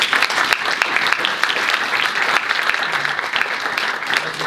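Audience applause welcoming two speakers at a talk on American democracy and political reform: steady, dense clapping from a full room, sustained evenly throughout with no voices over it.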